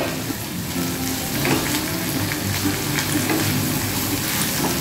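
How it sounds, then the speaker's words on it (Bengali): Potatoes frying in a pan with turmeric, a steady close sizzle running throughout with faint stirring scrapes, no talking. "আলুগুলোকেও একটু লাল করে ভাজতে হবে।"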